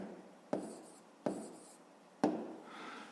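Numbers written by hand for a fifth-grade maths exercise: three separate short scratchy pen strokes on paper, close and quiet, with silence between them.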